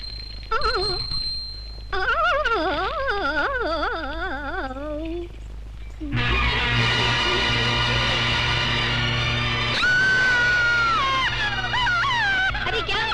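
A woman wails and screams in a Hindi-dubbed South Indian action movie scene, her wavering cries rising and falling in short bursts before loud music and other sounds take over.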